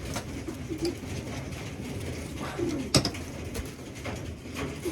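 Pigeons in a breeding loft coo softly and repeatedly, low murmuring calls layered over a steady background with a brief sharper knock midway, no speech.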